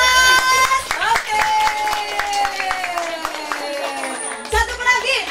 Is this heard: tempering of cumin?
no